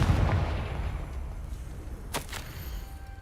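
In the Hogwarts Legacy video game, the Confringo fire spell goes off as a blast: a rumbling, booming burst that fades into a low roar, then two sharp cracks close together, with no voices.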